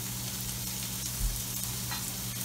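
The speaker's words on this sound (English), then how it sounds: "I'm gonna put the salmon fillets in, seasoned with a little salt and white pepper" Seasoned salmon fillets frying in a hot pan, a steady soft hiss of sizzling oil with a faint low hum and a small thump partway through, fairly quiet and uninterrupted.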